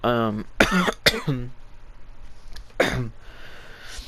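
A sick person coughs several times close to the microphone, sharp harsh bursts separated by short pauses, with a brief vocal sound at the start.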